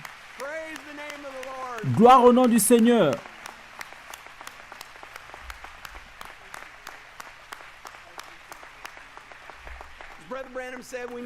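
A congregation at a French-language church service claps in a scattered, quick rhythm, fairly faint and continuous, while someone speaks and shouts over it at the start and end.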